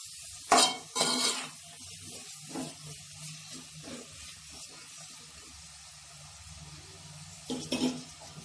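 A spoon scrapes and stirs onions in a pan with salt for pepper chicken, a few loud clanks at the start and end around quieter scraping and a faint sizzle.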